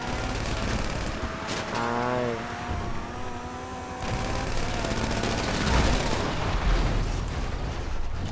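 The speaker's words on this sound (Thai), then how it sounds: "ยิงฮอไม่โดนเลยเนี่ย" Gunfire in GTA V aimed at a helicopter, rapid automatic bursts mixed with a whirring engine or rotor drone and some tonal game sounds, steady and fairly loud throughout with no talk.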